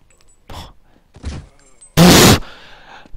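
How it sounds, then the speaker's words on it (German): A single loud, sharp gunshot from Counter-Strike on the de_dust2 map bursts out after a couple of quieter thuds, with no talk over it. "Was ein zweiter Schuss für Neo"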